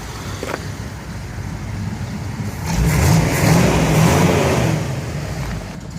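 A 1959 straight-axle Corvette engine idles steadily, then its revs swell into a louder, fuller roar for a couple of seconds before easing back down, heard up close with no talking.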